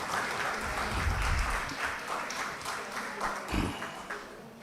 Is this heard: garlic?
no